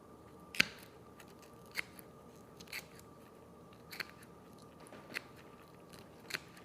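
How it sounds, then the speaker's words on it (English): Scissor tips snip along the side of a walleye being skinned for a taxidermy mount, a few sharp, isolated clicks and crunches spaced about a second apart, quiet and close with no talking. "I'm just going to take the tip of the scissors and I'm going to go right down the side of the fish"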